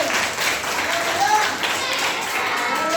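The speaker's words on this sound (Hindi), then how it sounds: "जोरदार ताली बजाइए।" A classroom of students clapping together, a dense, loud, continuous wash of applause up close that runs for the whole few seconds, with voices mixed in.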